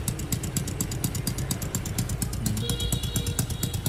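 A Honda Jincheng 110cc motorcycle engine with a two-stage clutch idles on a test stand, producing a steady, rapid low thumping pulse with a faint mechanical ticking on top, close and even throughout.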